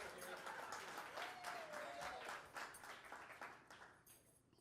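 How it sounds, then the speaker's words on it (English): An audience at a live magic show with rings claps in a steady, dense patter that thins out toward the end, with a thin sustained tone gliding through the middle. "Your applause is meaningless when you give it for that."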